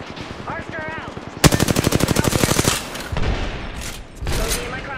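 A rapid burst of automatic gunfire rattles in Apex Legends for about a second and a half, loud and close, preceded and followed by short game voice lines and effects.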